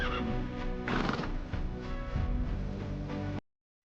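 Horses whinny and neigh loudly and close by at the Derajat horse festival gathering in Pakistan. Several calls overlap in a dense, continuous stretch and end abruptly.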